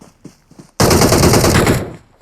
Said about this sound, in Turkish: Silah sesi.